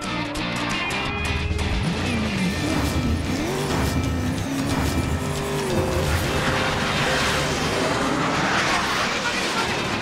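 Race cars in Cars 3: Driven to Win at a takedown cup event, engines whining and revving with tire squeals and skids, crashes mixed in, a game announcer speaking over the racket.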